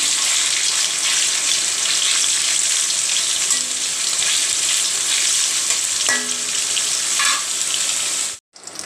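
Chicken pieces fry in a pan, giving a loud, continuous, close sizzle with a few faint clinks, ending in a sudden brief drop.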